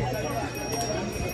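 Horse hooves clip-clopping on the mountain trek path from Gaurikund to Kedarnath, a quick irregular patter heard under steady voices and crowd noise on a busy pilgrimage route.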